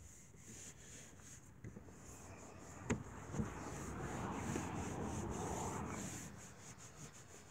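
Meguiar's Ultimate Paste Wax being rubbed by hand onto black plastic car trim, a soft close scrubbing and swishing that builds in the middle, with a couple of small taps and no talking.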